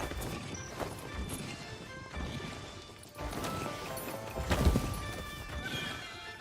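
A video game horse gives a loud whinny while its hooves clop steadily, mixed with crashing game noises and a dense, busy soundscape throughout.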